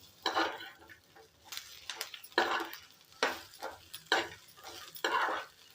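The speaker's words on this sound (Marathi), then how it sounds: "त्याचा कच्चपणा थोडा मोडला पाहिजे तिथपर्यंत आपल्याला हे भाजून घ्यायचे आहे तेलामध्ये" Coriander stems and dates roasting in oil in a pan, stirred with a spoon in repeated scraping strokes about once a second, with a soft sizzle underneath; close and fairly clear, no talking.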